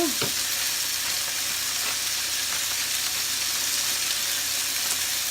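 Fish fillet frying in a pan, a loud dense sizzle that holds steady and close throughout, with a few faint clinks early on.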